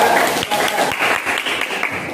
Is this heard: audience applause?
yes